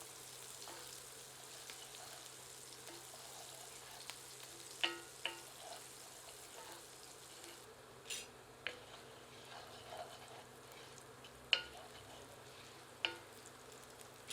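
Chopped garlic and green chillies fry gently over low heat in a pan for a banana flower sabji, a faint steady sizzle broken by a few sharp spoon clinks against the pan.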